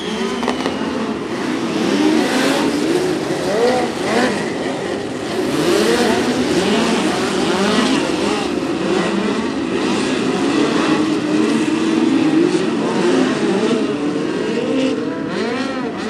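POWRI National Midget League race cars circle Macon Speedway at night in a continuous, loud roar of engines, with rising and falling whines as the pack passes and accelerates, no talking heard.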